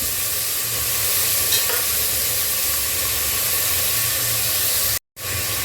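Chopped watermelon rind sautéing in a pan, a loud continuous frying hiss with soft stirring, close and steady, broken by a short dropout near the end.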